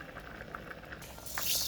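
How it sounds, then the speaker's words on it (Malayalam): A pot of cucumber and mango curry boiling, quiet steady bubbling and gurgling that swells into a louder hiss of bubbles at the end, with no voices. "നല്ല പോലെ കറി തിളച്ച് വന്നിട്ടുണ്ട്"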